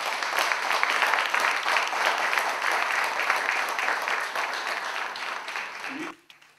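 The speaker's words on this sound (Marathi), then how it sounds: "आजच्या आपल्या कार्यक्रमाचे प्रमुख पाहुणे श्री सतीश आंबेडकर यांचे टाळ्या वाजून जोरदार स्वागत करतो." An audience claps loudly and steadily to welcome a guest at a talk show event, a dense, even roar of applause that cuts off abruptly near the end.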